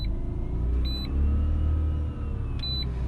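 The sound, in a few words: Mazda RX8 rotary engine running while driving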